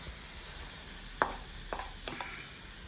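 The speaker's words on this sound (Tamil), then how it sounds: "இப்போ இது எல்லாம் சேர்த்து நம்ம நல்லா மிக்ஸ் பண்ணிடலாம்." A spoon stirring sweet pongal in a pan over low heat, with a faint sizzle underneath and a few soft scrapes and knocks against the pan.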